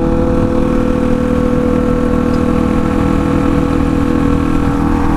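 A motorcycle with a loud aftermarket exhaust pipe idles nearby, a steady, heavy low rumble holding at one pitch throughout with no voices over it.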